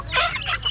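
Chicken clucking close by, a short burst of two or three raspy clucks over low background rumble.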